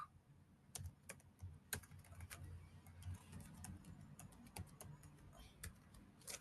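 Typing on a computer keyboard: a rapid irregular stream of faint, crisp key clicks spread across the whole stretch, quiet and steady under a low background murmur.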